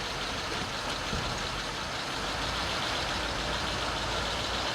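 A 1949 Meteor car engine idles steadily and continuously throughout, a low, even rumble with no talk over it.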